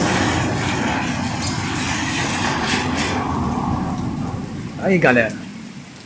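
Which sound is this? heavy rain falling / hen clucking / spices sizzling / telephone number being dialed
heavy rain falling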